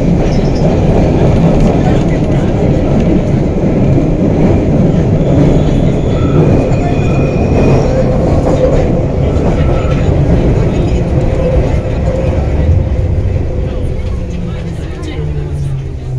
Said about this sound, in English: This is the Bakerloo line train to Queen's Park.